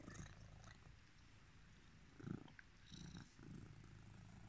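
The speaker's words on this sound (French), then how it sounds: "il ronronne bizarre depuis qu'il est tout petit" A cat with a nasal malformation purrs with an odd, rough, snuffly rumble. The sound is quiet and close, rising and falling steadily with no talking.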